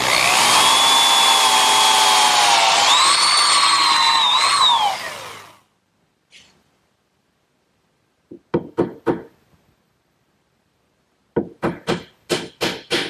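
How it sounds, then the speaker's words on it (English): A power drill whines loudly for several seconds as it bores dowel holes into wood for a table joint, then stops. Sharp knocks and taps follow in short bursts. "Next, I'll drill some holes to secure the joint with some dowel pins."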